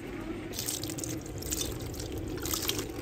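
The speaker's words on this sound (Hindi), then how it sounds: "अब इसको भी पानी लगाते हैं" Water pours and trickles onto potted coriander and greens, soft splashing and dribbling that swells in bursts, close but fairly quiet, with no talking.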